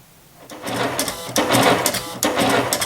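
A cutting machine fitted with a pen in place of its blade traces a design, giving repeated close, buzzing motor runs in short start-and-stop bursts that grow louder after a quiet start.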